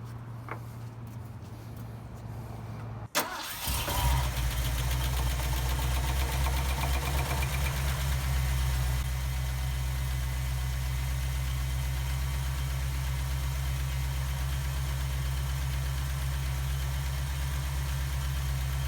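A 1979 Ford F-150 pickup engine cranks and fires after a few quiet seconds, then settles into a loud, steady, even idle that runs uninterrupted close to the microphone.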